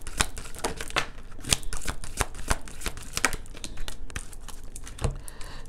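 Tarot cards being shuffled by hand: a steady run of dense, crisp riffling and flicking card noise, close and fairly loud, continuing throughout with no talking.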